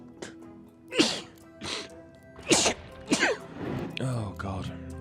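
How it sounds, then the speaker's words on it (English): Several exaggerated sneezes in quick succession from the video game SimCity, sharp and close, followed by a short gasping, wheezy vocal sound. "Ooh, sneezing time."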